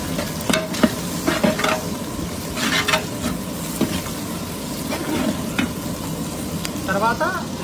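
Carrot and potato pieces stir-fry with onions in a pan for veg biryani, a continuous close sizzle broken by repeated scraping and stirring strokes.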